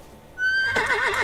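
A horse whinnies loudly in the medieval survival game Medieval Dynasty: one wavering, quavering neigh that starts abruptly after a brief quiet lead-in and carries on to the end, with no talk over it.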